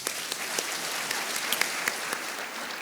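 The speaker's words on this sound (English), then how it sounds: "please give him a big round of applause" A panel session audience at a leadership conference breaks into steady, dense applause, a continuous wash of clapping with a few sharper individual claps standing out.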